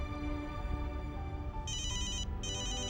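A telephone rings with a bright electronic trill in two bursts separated by a short gap, loud and close over a low steady background hum, with no talking.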